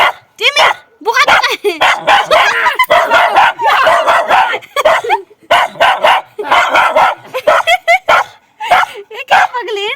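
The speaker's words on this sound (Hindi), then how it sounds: "गाइस हमारा कुत्ता पागल हो गया।" A pet dog at home barks and yips excitedly in loud, rapid bursts, mixed with people talking over it throughout.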